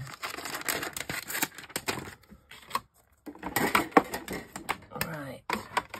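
Scissors cutting through a thick piece of vellum make a run of crisp snips and crinkling rustles, close and loud, broken by a short pause before more cutting.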